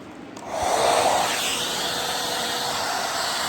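A handheld hair dryer blows as a steady, loud whoosh, rising after a short quieter start and then holding constant, with no voices.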